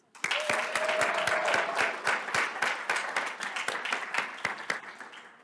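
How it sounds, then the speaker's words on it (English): A room at a school district governing board meeting erupts into applause for students, sustained steady clapping from many hands that starts abruptly and gradually eases. "And one more round of applause for our Sandra Day O'Connor students."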